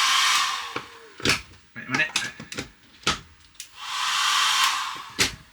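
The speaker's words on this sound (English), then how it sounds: "I think my sister brought that hairdryer actually" A hairdryer plugged into a socket inside a van under conversion blows in two sustained, loud bursts at the start and end, with people talking and clattering in between.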